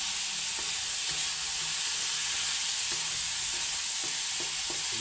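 Pork sizzles and crackles steadily in a hot pan with garlic and onion for Bicolano igado, a continuous close frying hiss broken by soft scrapes of a stirring utensil.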